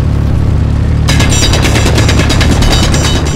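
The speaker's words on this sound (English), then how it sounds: "I can't get into it, so I'm going to drill under it." Loud, rapid mechanical drilling in the Space Engineers video game, a harsh grinding chatter that starts abruptly after a steady low hum and continues without pause.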